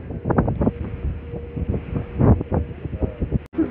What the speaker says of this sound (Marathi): मस्त वारा सुटलाय.